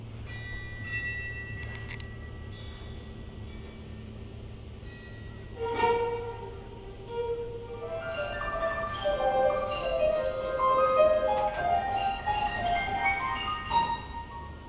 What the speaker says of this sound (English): So I really enjoyed playing the chimes.